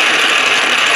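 A hand-cranked coil winding machine with a traversing wire feed turns steadily, making a loud, continuous mechanical whir with fast ratcheting texture, close up and without any voice.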